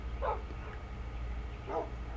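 Puppy in the video game Minecraft gives two soft, short yips about a second and a half apart, quiet over a low steady hum.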